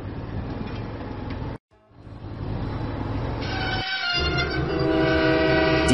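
A Diesel train engine in a Thomas and Friends video game arrives with a loud continuous rumble, a brief break, then a sustained horn tone and wheel squeal building at the end.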